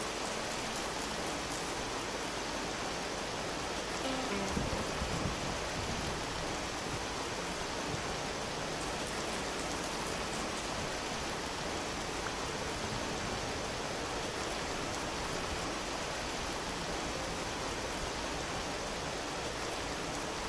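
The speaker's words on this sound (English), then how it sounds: "We got some significant hail going on." Hail falling in Vintage Story as a dense, continuous hiss of pellets striking the ground, steady and unbroken throughout with no voices.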